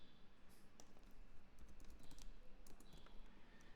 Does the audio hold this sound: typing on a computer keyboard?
yes